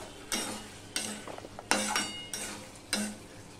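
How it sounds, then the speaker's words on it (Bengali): Spice paste frying with potatoes and pointed gourd in a pan, with a low sizzle under five sharp scraping stirs of a utensil against the pan, spaced roughly evenly. "আমি ঢাকা দিয়েই মশলাটা কষিয়ে নেব।"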